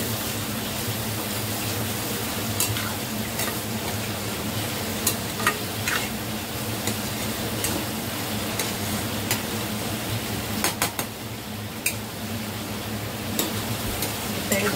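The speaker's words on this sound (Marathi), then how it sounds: "ते मस्त असं आपल्याला ना परतून घ्यायचंय थोडं तेलामध्ये." Tomatoes being stirred and sautéed in oil in a pan for a cabbage dish, with a steady close sizzle and occasional scraping clicks of a spoon running throughout.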